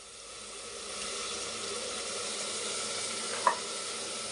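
Spice powder and curd fry loudly in a pan for egg biryani, a continuous close sizzle that swells after the first second, with one short clink near the end and no voices.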